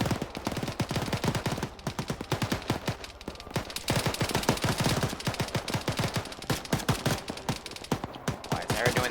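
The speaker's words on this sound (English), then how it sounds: "I'm hearing that 24 starting to spin up its weapons again as well." Helicopter weapons and small arms firing in a town assault in Arma 3, an Mi-24 gunship among them: dense, rapid bursts of automatic gunfire rattle almost without pause, loud and close, with heavier volleys swelling and fading.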